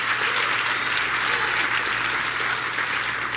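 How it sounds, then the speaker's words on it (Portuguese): Sustained audience applause fills a church ministry gathering, a dense, steady wash of many hands clapping at close range with no pauses. "Pode dar uma salva de palmas?"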